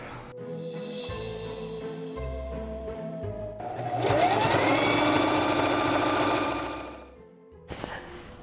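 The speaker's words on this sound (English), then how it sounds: "Once I'm done sewing this up" A sewing machine stitching a Bride of Frankenstein costume runs in steady bursts, a mechanical whir that pauses and restarts, building to a louder, busier stretch in the middle before tapering off, with no voices.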